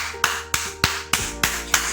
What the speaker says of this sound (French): Applaudis Jésus parce qu'il met au dehors